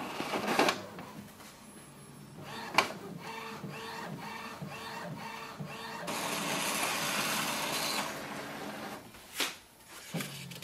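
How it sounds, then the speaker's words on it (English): An Epson WF-7820 inkjet printer prints a nozzle check after a printhead cleaning, with a rhythmic mechanical whir of the moving carriage, a steadier stretch of feeding, and a few clunks. "So we can see it has started to print."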